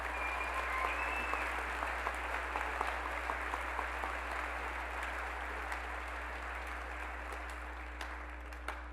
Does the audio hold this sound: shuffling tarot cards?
no